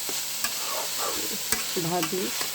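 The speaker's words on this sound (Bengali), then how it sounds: "আদা রসুন পেঁয়াজ মরিচ দিয়ে তেল দিয়ে এই যে ভাজা ভাজা করেছি" Banana stem stir-fries in oil with ginger, garlic, onion, chili and potato, giving a close, steady sizzle broken by a few sharp spatula scrapes and knocks against the pan.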